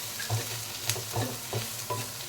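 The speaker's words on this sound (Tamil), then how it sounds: "இப்போ எல்லாத்தையுமே வந்து இந்த புடலங்காய் கூட நல்லா மிக்ஸ் பண்ணி விட்டுடலாம்" A spoon stirs ground coconut through a snake gourd curry in a pan, making a quick run of about five close scraping strokes in a steady rhythm over a soft simmering sizzle, with no voices.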